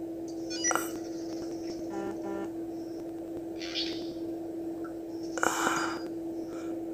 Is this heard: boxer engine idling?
no